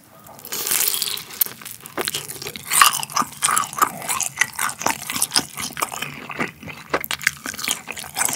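Korean yakgwa, a traditional honey-and-flour confection, is bitten and chewed up close with dense, crisp crunching and sticky mastication sounds in irregular bursts, with no talking.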